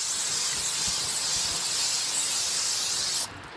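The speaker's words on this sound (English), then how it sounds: "So I take it and I spray the areas I want to spray twice first." A steady, close hissing spray from a spray bottle, seasoning the inside of a Masterbuilt 140B electric digital smoker, runs continuously for about three seconds, then stops.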